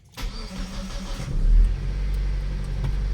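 A Mitsubishi car engine fitted with an aftermarket push-start button cranks briefly and fires up, then settles into a steady low idle, close and alone.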